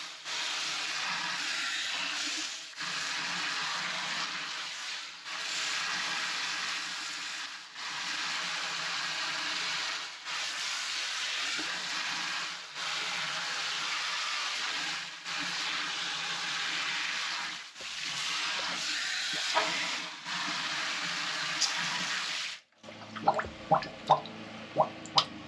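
Water from a hose hisses steadily as it washes green gunk out of a DE pool filter, a continuous broadband spray with brief dips. It stops near the end, leaving a few close drips and clatters.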